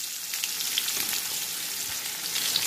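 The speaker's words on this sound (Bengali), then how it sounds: "এই মাছ ভাজার তেলেই আমি পেঁয়াজগুলোকে ছেড়ে দিলাম" Chopped onions sizzle in oil left over from frying fish for Bengali muri ghonto, a steady, close crackling hiss that runs unbroken from start to end with no talk.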